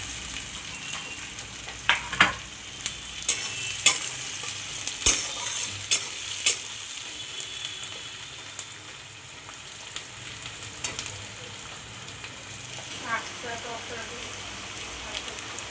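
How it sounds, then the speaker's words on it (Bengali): Chopped onions and green chillies fry in a pan with a constant close sizzle. A spatula scrapes and taps against the pan in a run of sharp knocks early on, then the frying carries on alone. "পেঁয়াজ কুচি, এগুলো লাল লাল করে ভেজে নেব"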